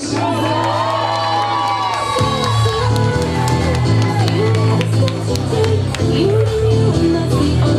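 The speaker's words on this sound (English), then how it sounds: "round of applause for his opponent, Dominic Edward Calvert" A boxing crowd cheers, whoops and shouts for the winner, a loud continuous roar with scattered clapping that swells and holds steady from start to finish.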